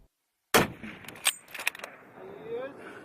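A single loud hunting rifle shot in the mountains of Torghar, Khyber Pakhtunkhwa, Pakistan, breaking sudden silence with a sharp crack, followed by rolling echoes off the terrain and a faint voice afterward.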